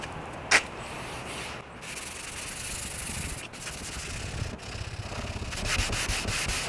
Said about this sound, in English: You have to abrade it, you have to remove the top layer of this oxidized moldy mildew.